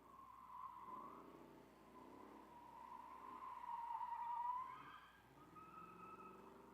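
A G-body Monte Carlo drifts at a drift pit event, its tires squealing in long wavering, pitch-shifting tones under a distant engine, rising and easing over several seconds.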